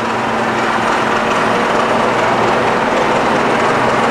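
A Cincinnati 315-16 horizontal milling machine runs its spindle at a slow speed, giving a steady, even mechanical hum and whir with a faint low tone, constant and close with no talk.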